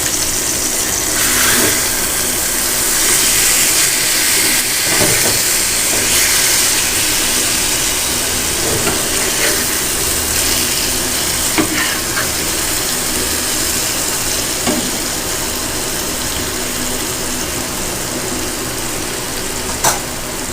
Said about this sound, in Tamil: மீன் வறுவல் வந்து ஒரு சைடு நல்லா வெந்து வந்துடுச்சு. இப்போ நம்ம வந்து திருப்பி போட்டுக்கலாம்.